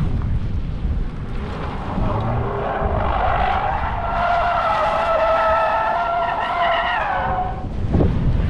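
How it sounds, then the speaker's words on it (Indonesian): Hyundai Ioniq 5 N electric car drifting on a test track in Korea, with loud sustained tire skidding and a rising, wavering squeal lasting several seconds, then a brief thump at the end. "Mobil listrik, bisa buat drifting."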